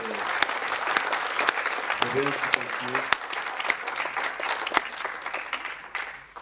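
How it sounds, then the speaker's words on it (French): A room full of people applauds steadily at a conference debate in a cinema, dense clapping holding for several seconds, with a voice briefly audible under it. "Je crois qu'ils méritent bien nos applaudissements"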